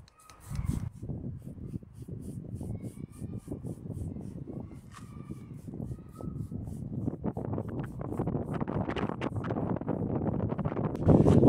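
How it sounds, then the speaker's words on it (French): Gusty wind buffets the microphone outdoors in a parking lot, a low rumbling roar that builds toward the end, with a few faint ticks and light rustles in the background. "Alors évidemment, aujourd'hui, il y a pas mal de vent"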